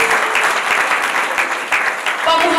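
A crowd applauds at a Rwandan wedding, with steady, dense clapping throughout and no break. Some voices rise faintly within the clapping near the end.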